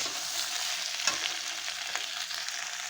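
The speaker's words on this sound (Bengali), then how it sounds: "আমি মশলা দিয়ে ভালো করে কষিয়ে নেব।" Potato stems fry in a pan with spices, giving a steady, close hiss and sizzle with a few small pops and stirring clicks, and no one speaking.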